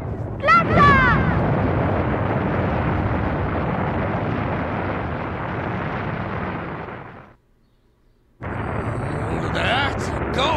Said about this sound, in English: All workers to the shelters. 4, 3, 2, 1. Blast off!